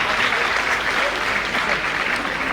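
Audience at a college award ceremony in Agra applauds as a certificate is handed over, a dense, steady wash of clapping filling the whole stretch at an even loudness.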